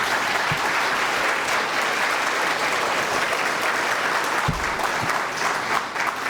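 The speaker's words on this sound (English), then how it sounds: "please give them a big round of applause." Loud, dense round of applause from the audience at a city's State of the City event, continuous clapping filling the room throughout with no break.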